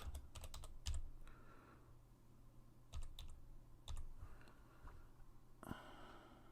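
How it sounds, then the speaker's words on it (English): A password typed on a computer keyboard while setting up an IP camera, bursts of quick key clicks separated by short pauses, close and quiet, with some soft breathing and no speech. "So I have to type my password"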